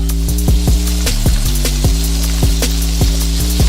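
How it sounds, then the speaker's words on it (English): Fresh garlic sizzles in a pan while shrimp alfredo is cooked, making a steady close crackle with sharp pops scattered throughout over a constant low hum. "I'm gonna add in my fresh garlic."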